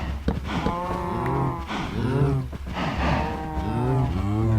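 Cows mooing in a Minecraft-based video game, several long drawn-out moos one after another, close and loud, alone without talk.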